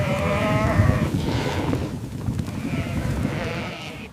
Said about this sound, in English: The sound of hooves on the hollow ramp is deafening.